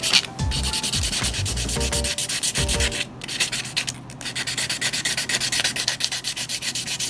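Steady, loud rubbing scrape of sandpaper taking burrs off a part from a 1/6 Tamiya Honda CB750 Four motorcycle model kit, close up and continuous with rhythmic strokes and brief pauses, no talking.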